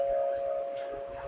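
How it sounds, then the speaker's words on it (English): A steady electronic doorbell tone sounds continuously, sustained and fairly loud, with faint room noise underneath and no talking. "Oh, there's the doorbell."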